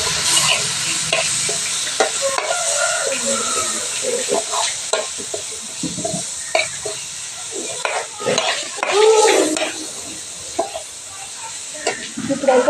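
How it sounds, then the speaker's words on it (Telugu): Spoon stirring turmeric and homemade masala in a hot pan for tomato rice, with a steady oily sizzle and scraping, clinking strokes against the pan, close and continuous. "పసుపు, ఇంట్లో చేసుకున్న మసాలా ఇవన్నీ ఒకసారి ఇలా కలిపేసుకోవాలి."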